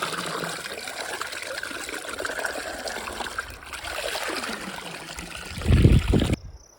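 Fresh spring water trickles and pours into a cattle trough at a trailside source while a water bottle is refilled, a steady close babble that swells louder near the end before cutting off.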